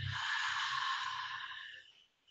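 A long, steady exhale through the mouth during a yoga breathing exercise, a close, breathy rush of air that fades out over about two seconds.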